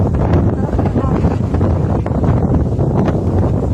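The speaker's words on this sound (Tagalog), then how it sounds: "Ang lakas ng hangin." Strong wind buffets the microphone in a loud, constant roar, with faint voices buried underneath.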